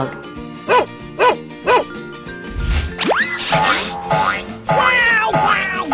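A dog gives three evenly spaced barks, followed by cartoonish boing effects and higher yelping or meow-like calls, all loud and mixed with lively sound effects.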